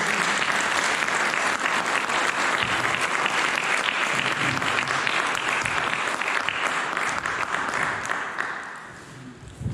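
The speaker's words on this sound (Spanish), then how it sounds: "les pido un fuerte aplauso" Audience applause at a literary talk on contemporary Querétaro literature, dense sustained clapping that fades slightly toward the end.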